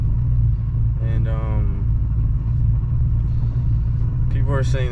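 A car's engine idles rough and labors after a 78mm BBK throttle body install, a steady low rumble running throughout with voices talking over it.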